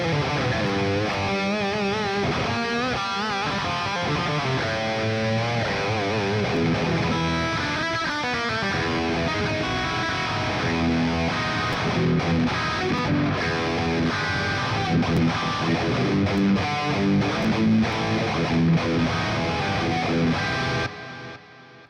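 An electric guitar played through a Quad Cortex amp modeler, a dense distorted riff with sustained chords and busy lead lines, loud and continuous for about twenty seconds before cutting off.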